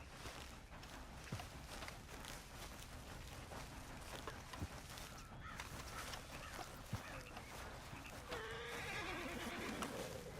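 A horse in the Red Dead Online western game lets out a neigh near the end, over a busy bed of ambient rustling and scattered clicks, with no talking.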